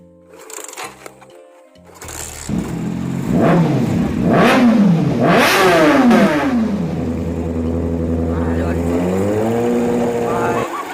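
A motorbike engine starts and revs up and down several times, then settles into a steady loud idle, close by.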